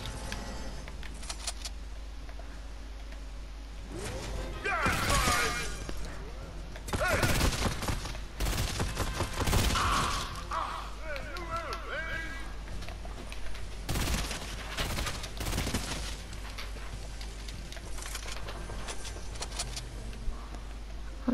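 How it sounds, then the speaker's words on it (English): Fortnite gunfire inside the Agency plays in repeated sharp bursts and rapid volleys, some clustered close together, over a low steady game background. "I'm going to get a gun here, and then kill the henchman from up here."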